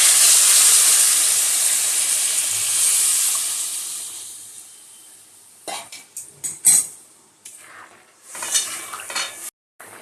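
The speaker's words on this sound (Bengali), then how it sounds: "এ দেখো ঝোলটা ফুটে উঠেছে।" Fish curry broth coming to a boil in a pot gives a steady hiss and bubbling at first, then fades, followed by scattered clinks and scrapes of utensils against the pot.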